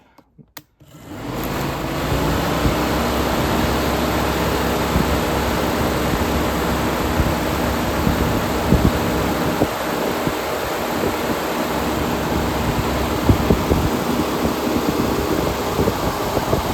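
A car radiator cooling fan runs alone on a test bench while its airflow in CFM is measured, starting after a brief click and then holding a steady, loud, broadband whoosh with a low hum throughout.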